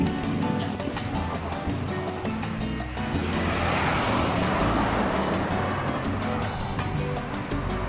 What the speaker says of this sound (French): avec le bruit des voitures